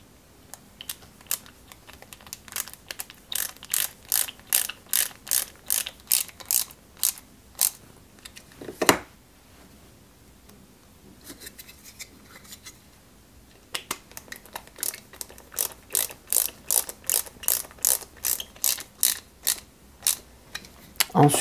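A screwdriver drives small EP screws into a 1/8-scale Subaru Impreza WRC 2003 model kit, making rapid ratcheting clicks in two long bursts with a quiet pause between them.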